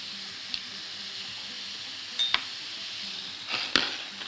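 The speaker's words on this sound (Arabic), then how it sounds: "هنا المية بتغلي، عايزاها تغلي جامد" Water boiling hard in a cooking pot gives a steady, moderately quiet hiss, broken by a few faint clicks and pops and two brief louder bursts.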